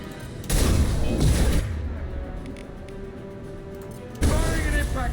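Bursts of gunfire and a heavy impact shot boom in Mass Effect 2, two loud blasts separated by a quieter stretch of rumbling action, with a voice under the game sound.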